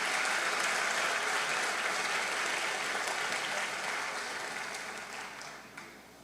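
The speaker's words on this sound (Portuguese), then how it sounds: "Dá um aplauso para Jesus." A church congregation claps together in sustained, dense applause that gradually tapers off toward the end.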